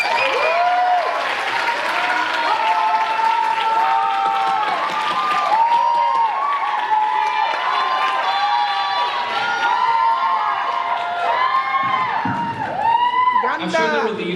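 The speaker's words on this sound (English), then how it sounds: "Let's give our brave contestants another round of applause" A pageant audience claps and cheers steadily for the contestants, a dense, sustained round of applause with scattered whoops, fairly close and lasting throughout.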